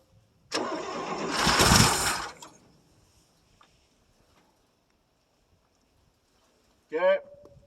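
A 1959 International B120 4x4 truck engine cold-starting after years sitting, with a loud cranking and sputtering burst lasting about two seconds, then dying away into near silence, followed by a brief voice near the end.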